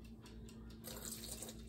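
Almond milk poured into mashed potatoes, a quiet, steady liquid pour with a faint trickling stream that grows slightly fuller partway through, alone without talk over a low hum.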